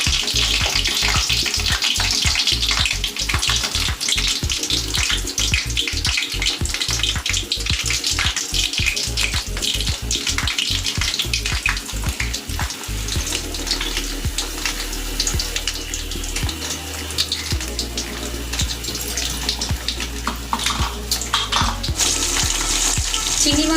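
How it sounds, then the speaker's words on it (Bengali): Prawns fry in hot oil in a kadai, a loud continuous sizzle with crackling spatter close by, settling into a steadier hiss partway through; no talking. "প্রত্যেকটা চিংড়ি মাছকে এইভাবে কড়ার মধ্যে আমি ছেড়ে দেবো।"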